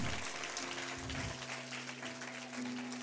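Quiet, thin applause from an audience, a scattered patter of clapping holding steady for a few seconds with a faint tonal hum behind it.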